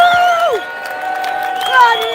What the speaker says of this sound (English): I want the biggest cheer I've ever heard at a demo for Nadeem